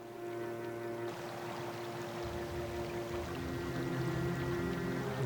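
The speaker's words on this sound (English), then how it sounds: "They damming the waterfall." Rushing water of a waterfall in American McGee's Alice pours and splashes steadily, a continuous broadband wash that swells slightly toward the end.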